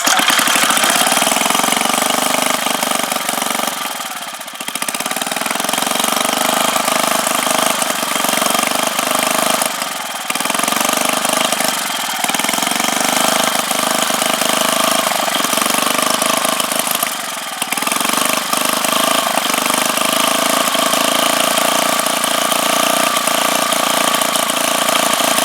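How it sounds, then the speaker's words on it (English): A rebuilt 5 hp Briggs and Stratton small engine running on full choke during its first start, a steady loud chugging idle with slight dips in speed every few seconds, with no one speaking. "we got the engine back together, and this is gonna be the first run of it"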